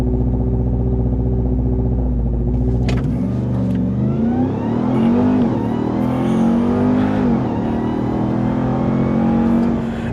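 A 2027 RAM 1500 TRX SRT pickup roars hard off a launch-control start, its loud close engine note climbing through rising revs with gear-change dips, steady and dominant for the full stretch.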